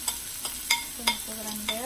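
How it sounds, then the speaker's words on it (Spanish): Chopped onion frying in a pan while a utensil stirs it, with a few sharp scraping clinks spread over a low, steady sizzle close by. "Le voy a echar un poco de cebolla picada"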